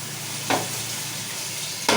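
Onions, tomatoes and chillies sizzling in a pan for egg biryani, a continuous close frying hiss with two brief stirring scrapes.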